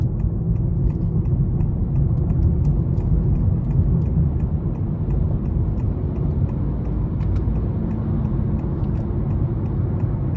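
Cabin of a 2023 Honda Accord Hybrid Sport driving in sport mode, with a steady, loud low rumble of road and drivetrain noise throughout and no distinct revving.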